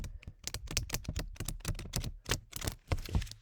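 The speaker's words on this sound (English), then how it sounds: "here's that formal shuffle" A deck of playing cards is given a formal shuffle up close, making a fast, irregular run of crisp clicks and riffling snaps with no talking.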